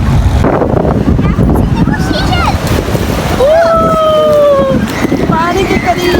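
Sea waves wash steadily at Clifton beach in Karachi, a loud continuous rush of surf and wind mixed with the chatter of a busy crowd, with voices talking nearby throughout.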